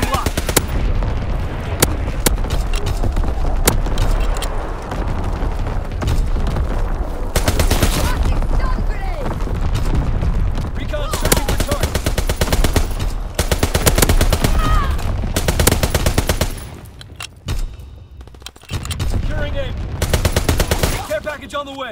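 Call of Duty WWII match on the Shipment 1944 map, with a heavy artillery barrage and machine gun fire booming in dense repeated bursts. Brief pauses break the barrage, and an announcer voice speaks over it.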